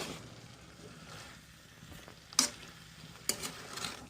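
Chickpeas and spices for onion- and garlic-free chana masala being stirred in a wok: a soft, quiet sizzle with two sharp scrapes of the spatula against the pan, and no voice.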